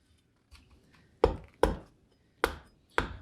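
Four sharp, separate strikes of an edge tool paring green wood while carving a heart-shaped bowl, each a crisp broadband cut with a quick decay, close and distinct over a quiet background with faint earlier scraping.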